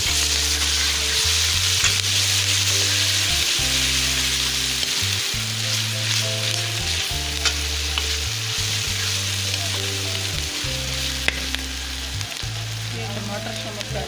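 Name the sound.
garlic ginger paste frying with onions in pan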